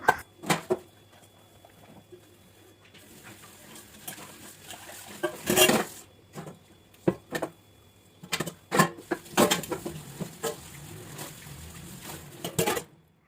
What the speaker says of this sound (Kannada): ಈಗ ಅದನ್ನು ಪಾತ್ರೆ ತೊಳ್ಕೊಬೇಕು